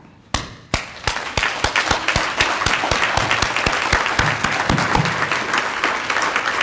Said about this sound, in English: I'm going to start with this brief clap.